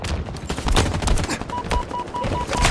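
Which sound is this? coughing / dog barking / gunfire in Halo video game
gunfire in Halo video game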